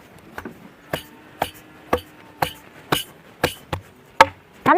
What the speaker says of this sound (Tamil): ரோசா பூ இடிச்சு விட்டேன்